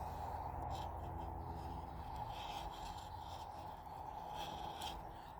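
A Bark River knife shaves a piece of wood like a chisel, giving a steady, faint rasping scrape with a few brief sharper strokes, close and alone.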